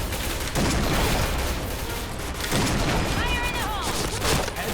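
Grenade blasts and gunfire ring out in a Point Blank shooter game, a dense run of loud, close bursts and booms that hardly lets up, with a player's voice talking over it.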